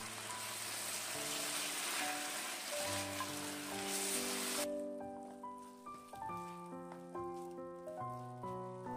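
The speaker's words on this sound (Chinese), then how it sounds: "再把炒好的豆腐下入锅中，翻炒均匀，让料汁都能均匀的包裹在豆腐上面" Fried frozen tofu tossed in a wok with thick sweet and sour sauce, giving a broad sizzle that fades partway through while background music carries on.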